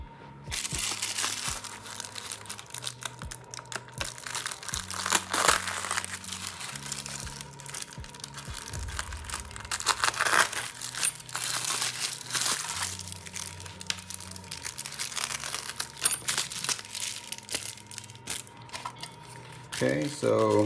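Amazon Prime plastic packaging is cut and crinkled by hand up close, with repeated crunching and rustling bursts over about twenty seconds and a faint background hum.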